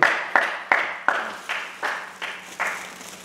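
An audience at a rabbi's Torah lecture claps in unison: steady, rhythmic claps at about three per second, each one ringing briefly, with no talking.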